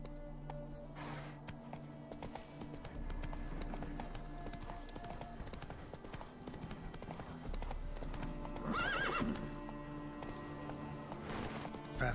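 Roach, Geralt's horse in The Witcher 3, gallops with a rhythmic clip-clop of hooves, moderately quiet under game ambience and soft music, steady throughout.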